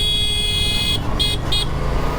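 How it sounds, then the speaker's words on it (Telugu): Over a steady motorcycle engine hum, an Aprilia RS 457 sport bike sounds its horn in a few short, thin toots close by. "హార్న్ కొంచెం మంచిది ఇచ్చిండుంటే బాగుండేది."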